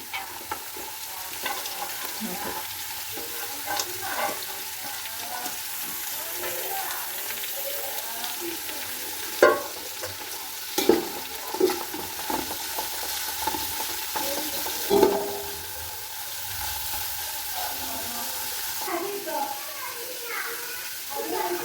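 Carrots go into a pan with beans for fried rice in a home kitchen and are stir-fried, with a steady sizzle, scraping stirs and a few sharp clanks, under ongoing talk and faint background voices.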